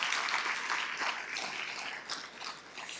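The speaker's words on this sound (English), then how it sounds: "let's give them a big round of applause as well" Audience clapping at an evening gathering honoring sages over 70, a steady patter of many hands filling the room, moderately loud and continuous with no talking over it.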